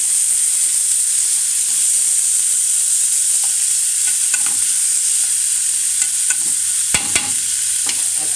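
Washed lentils are stirred as they fry in a pot of oil, giving a constant bright sizzle with scattered scraping and clicking stir sounds close by.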